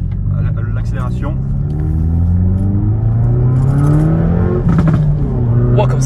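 A Hyundai i30N hot hatch with 275 hp accelerates hard on the road, its engine note climbing steadily in pitch as a loud, continuous rumbling drone, with people talking over it inside the car.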